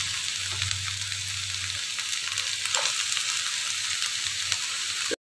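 Diced capsicum sautéing in a hot pan with ginger and garlic for a vegetable Manchurian, giving a steady loud sizzle with faint stirring scrapes, close and continuous until it cuts off abruptly.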